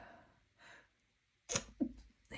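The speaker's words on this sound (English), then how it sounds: "I'm going to sneeze." A short indrawn breath, then a single sudden sneeze up close, followed by a faint exhale.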